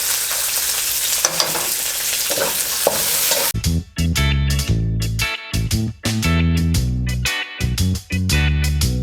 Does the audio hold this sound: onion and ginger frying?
yes